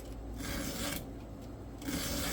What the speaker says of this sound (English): I'm going to continue sharpening here